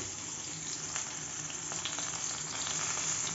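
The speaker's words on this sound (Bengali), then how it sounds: "তো বন্ধুরা ওই কড়াইতে মাছগুলোকে ভেজে নিচ্ছি" Fish frying in oil in a wok gives a steady, close crackling sizzle that runs unbroken and evenly loud throughout, with no voices over it.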